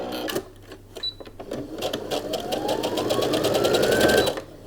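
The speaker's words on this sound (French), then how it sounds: "avec une marge de couture de 6 mm, on va faire une couture rapide" A sewing machine runs a quick seam through fabric with a 6 mm seam allowance for a braided fabric Christmas wreath, its motor whirring up to speed in a loud, steady rattling stitch close by before it stops.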